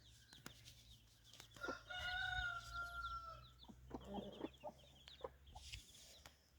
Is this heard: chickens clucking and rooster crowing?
yes